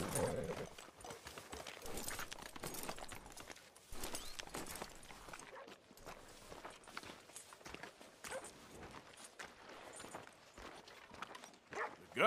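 Horse hooves clip-clop at a steady walking rhythm in Red Dead Redemption 2, moderately close and fairly quiet, with some faint background noise.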